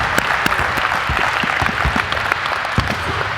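Players and coaches clap together during a basketball drill in a gym, with loud, close, uneven group claps ringing off the hard walls in a quick running patter.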